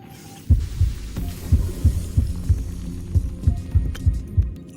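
A heartbeat sound effect in the Honkai: Star Rail video game, with low, close, thumping beats in a steady rhythm over a faint background hum.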